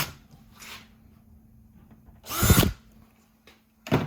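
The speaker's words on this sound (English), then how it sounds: "That's why the drill's going through so easy, because I punched this." A power drill bores through punched metal on a 1971 Monte Carlo SS454, with brief whirring bursts between quiet pauses, one longer grinding pass in the middle and another starting at the end, close up, with no speech.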